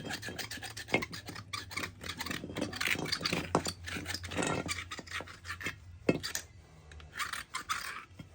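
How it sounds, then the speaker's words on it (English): A metal hose hook scrapes around the snap ring groove of a wheel bearing housing in a press-style wheel bearing job, producing close, irregular rasping strokes and small clinks with no speech. "I'll take a hose hook and scrape it around in the groove to make sure the groove's clean"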